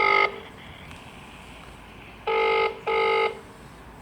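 A telephone ringing over an Ethernet jack wired as an RJ11 phone jack, heard as clipped electronic ring tones: one burst cut off at the start, then two short, evenly spaced bursts with quiet gaps between them.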